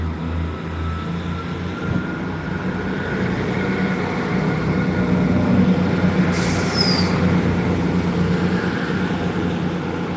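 Great Western Railway service pulling out toward Bristol Temple Meads, a loud, steady low diesel drone building as the train accelerates, with a brief high squeal partway through.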